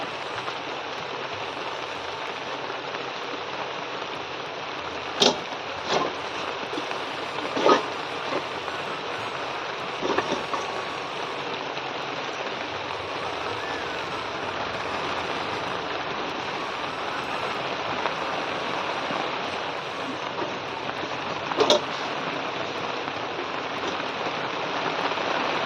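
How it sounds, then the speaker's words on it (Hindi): Steady rain falls at the start of a downpour, a dense continuous hiss of drops with occasional louder drips and taps on a surface, close and unbroken, with no voices. "दोस्तों देखिए बारिश शुरू हो गई है।"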